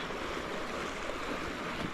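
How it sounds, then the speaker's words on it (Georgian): Steady rush of Mediterranean Sea waves washing in, a continuous broadband surf with a light touch of wind, fairly close and with no voices. "ისევ ხმელთაშუა ზღვაზე ვარ"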